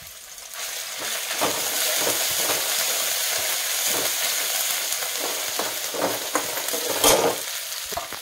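Garlic and ginger frying in hot oil over browned onions for a village-style fresh pigeon pea amti, a steady loud sizzle with repeated stirring scrapes and crackles, alone without talk.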